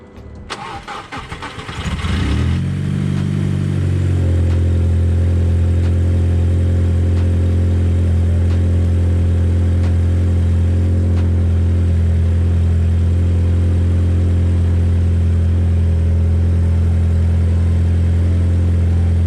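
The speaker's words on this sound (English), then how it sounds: "So I'm gonna start the car and I guess see if there's leak" Audi A4 engine cranking briefly and catching, then settling into a loud, steady idle that runs on alone, heard close up during a coolant flange replacement.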